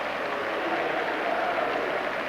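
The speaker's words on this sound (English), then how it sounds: "Applause all around the ground though." Full-time crowd at Highbury during Arsenal against Liverpool in a 1988/89 Littlewoods Cup replay, a distant broad wash of applause rolling around the ground.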